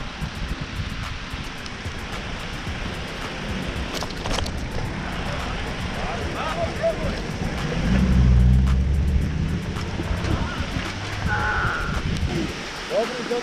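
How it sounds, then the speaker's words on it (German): A car rolls past near a waterfall, swelling to a low rumble midway and then fading, over steady wind, rustling leaves and rushing water, with people talking nearby. "Auto!"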